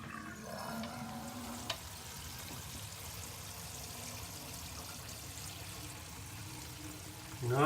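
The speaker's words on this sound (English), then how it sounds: "obviously we can hear the water running" Water runs and splashes steadily down a bathroom sink drain, a continuous hissing flow with a faint knock early on and a louder rush at the end.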